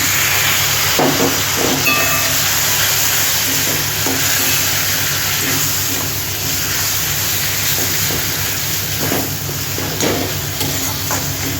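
Spice paste of turmeric, cumin and coriander powder with a little water, sautéed in a pan: loud, continuous hissing sizzle, close up, with repeated scraping stir strokes throughout.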